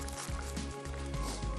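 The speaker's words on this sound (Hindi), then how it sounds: "आपको आवाज़ आ रही होगी पानी की, चुड़पुड़ की आवाज़।" Chicken for chicken chili shawarma fries in a pan with a constant crackling sizzle and wet bubbling pops, moderately loud and close, with a few clatters as it is moved.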